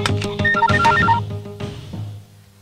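A telephone rings on an outgoing call, a loud close electronic ringing tone with stepped musical pitches in quick succession, fading out after about two seconds.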